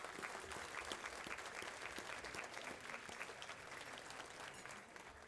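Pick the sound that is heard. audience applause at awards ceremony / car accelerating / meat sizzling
audience applause at awards ceremony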